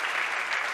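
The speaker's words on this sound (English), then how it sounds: "you'll tell him we clap for him" Church congregation applauding together, a steady dense clapping that fills the whole short moment at close range with no pauses.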